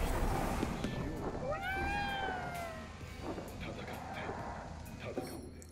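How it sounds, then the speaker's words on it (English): A cat meows in the video game Ghostwire Tokyo, one clear rising-and-falling call in the middle, heard over steady game ambience while someone talks before and after. "Hello, Mr. Cat."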